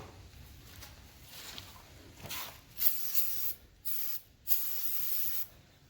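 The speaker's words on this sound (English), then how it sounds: "Spray a little bit of starting fluid." Short bursts of hissing aerosol starting fluid spray into a power washer engine, several quick pumps followed by longer sprays, close by with pauses of near silence between them.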